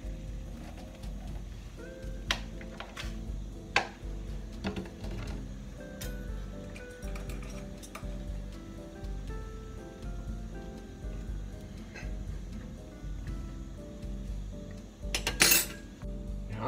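Butternut squash cooks in olive oil in a pan, giving a steady low sizzle and crackle throughout, with occasional sharper clinks of utensils against the pan and a brief louder clatter near the end.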